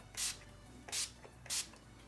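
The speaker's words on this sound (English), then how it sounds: "And then of course you can use some setting spray." Three short hissing sprays from a makeup setting spray pump bottle, evenly spaced about half a second apart, close by in a quiet room.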